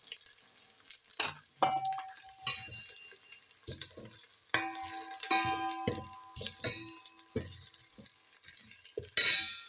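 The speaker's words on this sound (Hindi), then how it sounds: "जल ना जाए इसलिए आपने हिलाते रहना है।" Onion and garlic frying in a pan for a green-onion kadhi pakora, stirred steadily with a utensil that scrapes and clinks against the metal over a constant sizzle, with occasional louder clangs.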